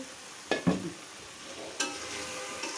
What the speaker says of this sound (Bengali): মাংসটা এখন কষাবো একটু ভেজে নিয়েছিলাম আমি